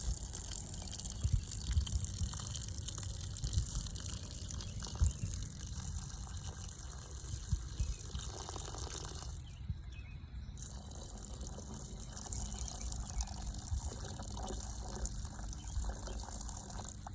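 Water poured steadily onto soil during a classroom erosion demonstration, a continuous rushing, splashing wash that runs for the whole stretch without voices.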